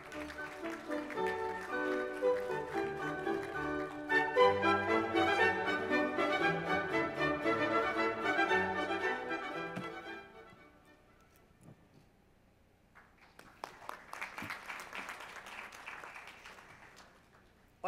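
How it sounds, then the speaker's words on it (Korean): Audience applause greets the keynote speaker, the commander of the US Eighth Army, at a Korea-US alliance conference and gala dinner. A steady mid-level patter of clapping swells in the last few seconds after a longer stretch of other sound and a brief lull. "큰 박수로 환영해 주시면 감사하겠습니다"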